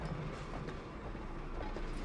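Tram rumbling along rails in the Saint Denis streets of Red Dead, a steady clattering roll with faint wheel clicks, continuous throughout.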